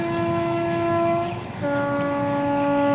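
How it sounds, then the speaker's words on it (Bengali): A train rolls by with a long, loud two-tone horn blast that dips briefly and then resumes, heard up close and alone. "এই দেখেন ট্রেনটা গেল"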